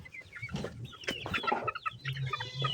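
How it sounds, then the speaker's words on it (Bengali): A native chicken held in someone's hands clucks and squawks repeatedly up close, in agitated irregular bursts. "এই যে আমি প্রথম নিজে হাতে মুরগি ধরলাম।"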